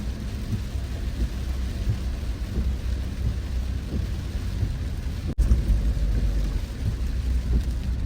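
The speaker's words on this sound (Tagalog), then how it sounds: "Humina na konti yung ulan." Steady rain hisses continuously in Bohol, Philippines, during a tricycle ride, with a low rumbling background, one brief dropout midway, and no voices.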